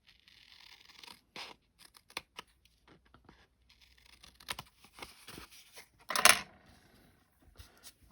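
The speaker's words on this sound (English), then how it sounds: "I just want to do a little trimming on this one." A paper card is trimmed with scattered short cutting and scraping sounds, irregular and close, with one brief louder burst near the end and no talk.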